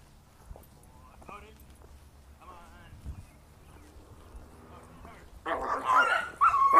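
A Bernese dog yips and whimpers faintly at first, then barks louder and more insistently near the end, with people talking over and between the sounds.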